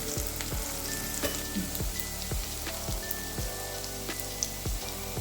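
Shallots sizzle and crackle in hot oil in a pan for Palakkad-style beef biryani, a steady quiet frying hiss broken by intermittent sharp pops and stirring knocks, with no talking.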